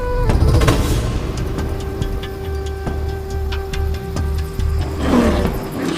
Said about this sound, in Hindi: ये तो भालू की आवाज है।